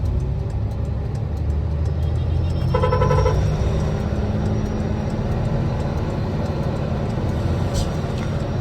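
A car engine revs steadily at high RPM, a loud continuous drone with a brief brighter whine partway through, heard from close by inside or beside the vehicle.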